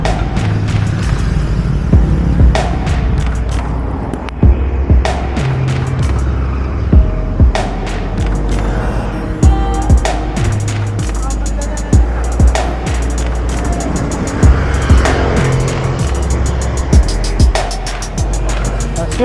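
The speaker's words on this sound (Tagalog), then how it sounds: "As usual, Tagaytay Sunday traffic." Passing cars and engine noise in Sunday traffic in Tagaytay, a steady road rumble broken by repeated sharp bumps and clatters, loud and close throughout.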